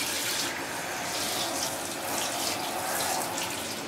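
Water from a shower sprays steadily over a cat, a continuous broadband hiss and splash with no speech.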